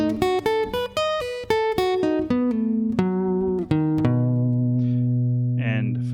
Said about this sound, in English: The next one is a B dominant 7 arpeggio